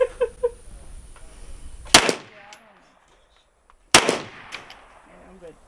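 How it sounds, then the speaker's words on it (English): A handheld gun is fired at a range, with two sharp, loud shots about two seconds apart, each followed by a decaying echo. "Why are you shooting it like that?"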